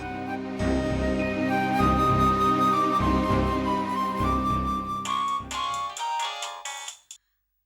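A phone ringtone plays a steady, melodic ringing tune for about seven seconds before cutting off abruptly, loud and clear with no talking, in a Tamil TV serial scene.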